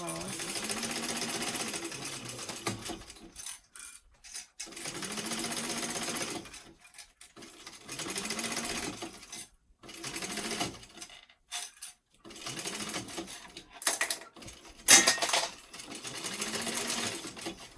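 A sewing machine stitches a fabric travel bag in long steady runs of rapid mechanical chatter, stopping and restarting several times with brief quiet gaps, close and loud.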